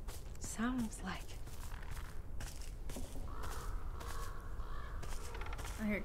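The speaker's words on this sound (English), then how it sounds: "I heard crows and then..." Crows caw a few times amid a game's ambient soundscape, the calls faint and spaced out over a low continuous rumble, with light footstep-like rustles and a drawn-out tonal hum later on.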